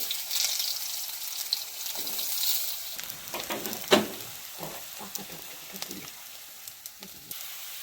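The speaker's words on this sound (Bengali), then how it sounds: "আলুগুলোকে একটু ভেজে নিতে হবে।" Thinly sliced potatoes fry in hot oil with dried red chillies for a raw tomato dish, a steady soft sizzle broken by occasional stirring scrapes and clinks, with a louder knock near the middle.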